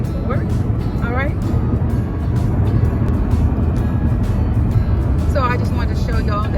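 A car drives along the freeway on a commute, a constant loud road and engine rumble filling the cabin while someone talks over it.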